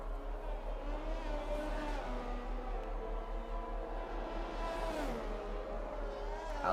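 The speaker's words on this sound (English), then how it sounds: "Out of the pits he comes now in 13th place." Race car engine in an Xbox racing game pulling out of the pit lane at the Japan round, a steady droning whine that rises and falls with gear changes, with a commentator talking over it throughout.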